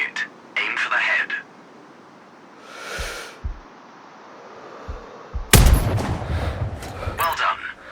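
In the shooter Sniper Ghost Warrior Contracts, a sniper rifle fires at a target with one loud, sharp crack and a short tail, after spoken instructions and a few faint thuds.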